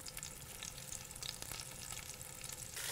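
A lamb shoulder searing over high heat in olive oil in a cast-iron cocotte, giving a steady dense sizzle with small crackles throughout, quiet and close, without speech.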